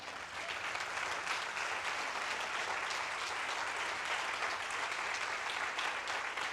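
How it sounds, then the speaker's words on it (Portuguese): A church congregation applauds in a sustained, even wash of clapping that lasts the whole stretch, steady and fairly dense, with no voice on top. "Pode aplaudir o Senhor?"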